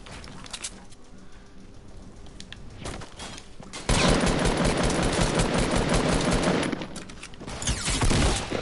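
Rapid gunfire crackles through a Fortnite Battle Royale match, a dense burst of shots swelling loudly midway and continuing in bursts, with a sniper shot among the exchanges.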